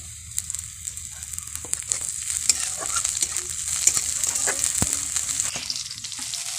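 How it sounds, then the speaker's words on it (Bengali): Ginger, garlic, chili flakes and chopped green chili frying in oil for a potato and onion kachori filling, a steady close sizzle with scattered stirring scrapes and clicks, no talking. "সবগুলো হালকা করে ভেজে নিয়েছি, এই যে এইভাবে।"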